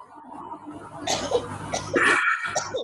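A harsh, raspy cough erupts at close range, a couple of rough bursts with a brief pause between them, loud and strained.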